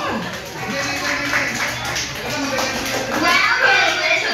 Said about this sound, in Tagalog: parinig po ng malakas na palakpakan naman, John